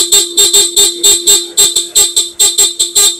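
A stock horn on a Honda ADV160 motorcycle beeps about a dozen times in a steady, rapid rhythm. Each short, bright, buzzy honk is loud and close.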